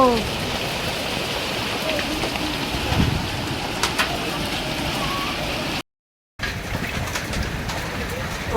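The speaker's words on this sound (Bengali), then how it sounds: "কিরম শিল পড়ছে দেখো" Hail and rain falling in a hailstorm: a steady, dense patter and hiss of drops striking surfaces, with occasional sharper hits, faint bird coos behind, and a brief moment of silence partway through.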